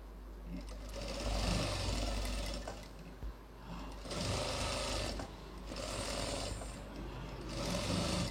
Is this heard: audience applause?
no